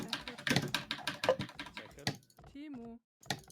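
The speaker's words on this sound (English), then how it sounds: "just let me know if my keyboard's too loud" Fast typing on a computer keyboard during a strategy-game coaching session, dense rapid clicks and taps close to the microphone, broken briefly by a short electronic tone before the keys resume.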